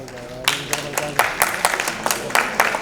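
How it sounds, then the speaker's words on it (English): Audience at a launch event claps in scattered, uneven bursts that grow a little denser, with a voice briefly heard at the start. "Big round of applause, please."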